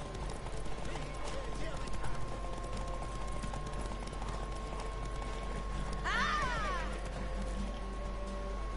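Horse hooves galloping in a video game, a rapid rhythmic clip-clop under continuous talking, with a brief whinny-like sweep near the end.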